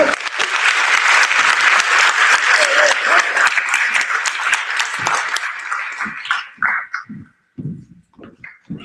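A school NJROTC change-of-command audience breaks into sustained loud applause that fills the room for about six seconds, then thins into scattered claps and trails off.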